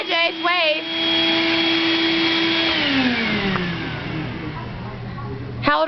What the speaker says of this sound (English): And what is this? Vacuuming.